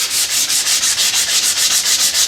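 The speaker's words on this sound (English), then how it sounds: "So I'm just going to sand the whole limb for a bit" Sandpaper rubs along a wooden Ishi-style bow limb in quick, even back-and-forth strokes, about four per second, loud, close and alone.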